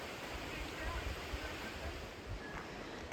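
Steady broadband rush of the Alfred River flowing beside a backcountry hiking track near Pell Stream Hut, continuous and fairly close with a low rumble and no talk.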